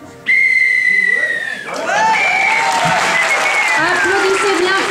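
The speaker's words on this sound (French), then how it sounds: "Applaudissez bien fort cette magnifique improvisation" Audience applause follows an improv performance at the 2013 Mondial d'Impro match between Québec and France. A loud, whistle-like tone cuts through the opening, and sustained clapping with scattered shouts and voices runs underneath throughout.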